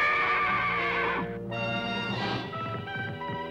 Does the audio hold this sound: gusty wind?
no